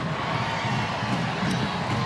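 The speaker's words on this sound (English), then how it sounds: "It is a great crowd this evening despite the inclement weather." Stadium crowd at a USA vs Mexico women's international soccer friendly in Connecticut on a rainy evening, a steady, distant roar of many voices without clear individual words.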